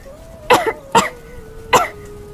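A cartoon child coughs three times in sharp, close bursts over a faint steady tone, with no talk.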